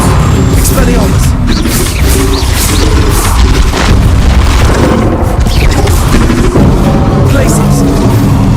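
Loud, dense spell explosions and booming blasts from Hogwarts Legacy, bursting in rapid succession throughout a chaotic battle, with voices shouting spell names over the continuous din.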